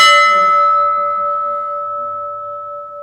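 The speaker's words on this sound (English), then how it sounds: "The bell still rings." The Abana bell, an RNLI lifeboat bell, is struck once, close and loud. Its bright clang settles into a long, steady ringing hum that keeps sustaining with little fade.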